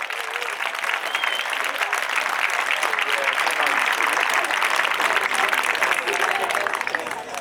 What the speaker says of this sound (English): you all clapped